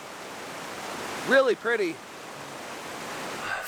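Rushing creek swollen with snowmelt runoff in the High Uinta mountains, a steady broadband roar of water running throughout, with a short burst of talk partway through.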